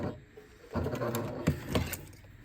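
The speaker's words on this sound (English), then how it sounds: "I'm going to come and sew like an X" Sewing machine stitching an X across the straps of a dog harness, quiet bursts of rapid mechanical whirring separated by short pauses as the fabric is turned, heard close up.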